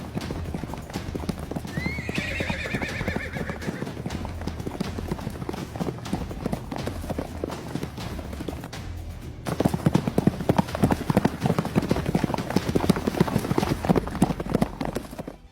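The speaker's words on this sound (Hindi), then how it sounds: "घोड़ों के पैरों की आवाजें आ रही थीं।" A group of horses galloping, their hoofbeats a dense, steady clatter that grows louder and closer partway through, with a horse whinnying early on and faint narration beneath.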